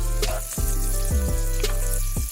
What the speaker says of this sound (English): we only let it sizzle for about 5 minutes